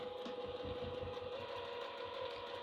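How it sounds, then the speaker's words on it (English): A sewing machine back-stitches the bottom seam of a duffel bag at a 3mm stitch length, its steady motor whir and rapid needle clatter running continuously at close range. "I'm going to back stitch at the bottom."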